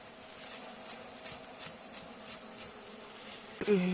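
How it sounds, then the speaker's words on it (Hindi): Swarm of honey bees at a hive, a steady, dense buzzing hum throughout with pulsing surges, closely heard and alone, ending with a brief louder knock. "तो ये रही हमारी मधुमक्खियाँ।"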